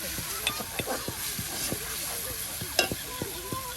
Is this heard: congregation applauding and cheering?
no